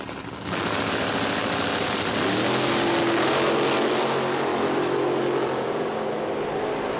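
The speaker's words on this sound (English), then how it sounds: "look at the Camaro burning the tires here" A drag-racing Camaro doing a burnout at a drag strip, spinning its tires: a loud, steady engine roar with harsh tire noise holds almost unbroken for several seconds after a brief quieter start.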